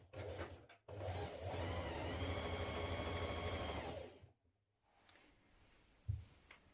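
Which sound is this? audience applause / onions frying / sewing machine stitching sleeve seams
sewing machine stitching sleeve seams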